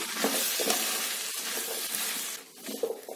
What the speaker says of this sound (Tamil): இப்ப சொரக்காவை உள்ள சேர்த்துட்டு ஒரு 2 நிமிஷத்துக்கு லைட்டா அதை வதக்கிடலாம்